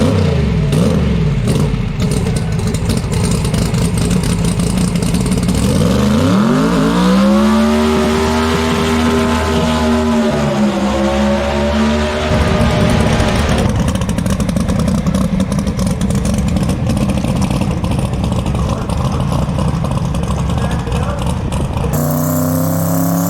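A loud 1957 Chevy engine revs on a test run, roaring throughout with sweeping rises and falls in pitch as it climbs and drops, then settles into a rough, steady rumble before cutting off abruptly near the end.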